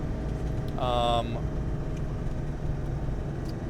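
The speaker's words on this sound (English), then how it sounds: "So that's third gear. We're cruising at 60 kilometers or 36 miles an hour." A 1999 Land Rover Defender Td5 diesel cruising in third gear at about 60 km/h, a steady low engine drone and road rumble heard from inside the cab, with a brief tonal whine partway through.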